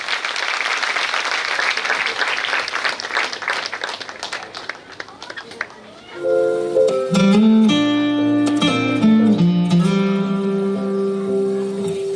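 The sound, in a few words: applause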